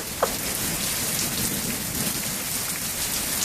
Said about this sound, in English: The hail is bouncing off the roof.